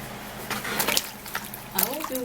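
Tap water runs steadily while carrots are being washed, a broadband splashing wash with brief clatter, and a voice talks over it near the end.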